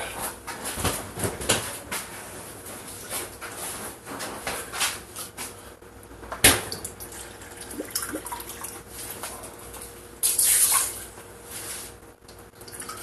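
A cup and a half of water is poured for cooking, giving a faint, steady running-water sound with a few scattered clicks and knocks of kitchen handling.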